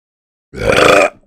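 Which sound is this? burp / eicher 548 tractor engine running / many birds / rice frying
burp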